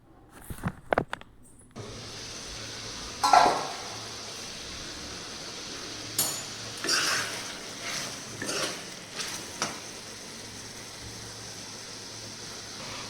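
Chicken pieces and slit green chillies stirred in a pot, with a few sharp metallic clanks, then quieter intermittent scraping and clinks of a spoon against the pot over a soft background hiss.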